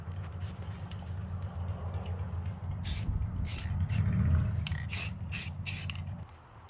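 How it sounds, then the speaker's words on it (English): Several short hissing bursts from a spray paint can, some close together, over a steady low mechanical hum, while painting a lawn mower. "I'm going to be using this John Deere green spray paint that I found at Walmart."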